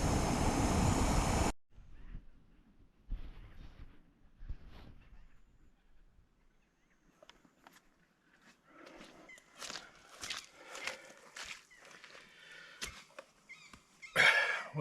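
A Jetboil camping stove burns with a loud, steady roar for about a second and a half before cutting out, at a deer hunt in the field. Sparse clicks and light rustling follow in the quiet.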